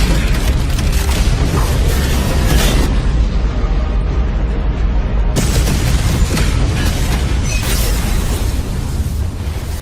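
A massive explosion shockwave in an animated space battle, a sustained thunderous roar with dense crackling debris that briefly thins in the middle before surging back, loud and continuous.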